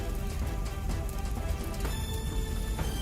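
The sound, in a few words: rain falling on a burning hotel in an animated story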